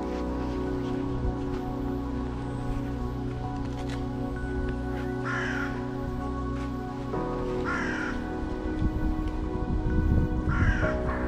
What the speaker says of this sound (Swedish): Jag vet inte om kråkorna inte gillar mig. Kraxa på mig.